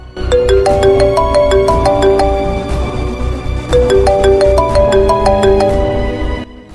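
A phone ringtone plays a bright, repeating melodic pattern loudly, cycling twice before cutting off.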